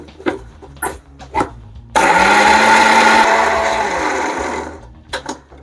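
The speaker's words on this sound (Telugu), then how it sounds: "ఇప్పుడు మనం దీన్ని మిక్సీ పెట్టేస్తాం." A kitchen mixer grinder whirs loudly for about three seconds as it grinds cooled garam masala into a fine paste, with brief knocks and handling sounds before and after.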